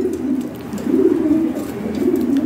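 Imported European ring-bloodline breeding pigeons coo in a low, continuous rolling murmur, close by and steady, with no talk over them.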